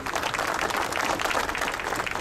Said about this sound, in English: we have to give our president a round of applause